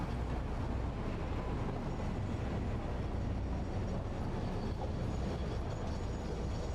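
A train rolling on rails in the video game Satisfactory, a steady dense rumble held at an even loudness throughout with no distinct clacks, heard alone without talk.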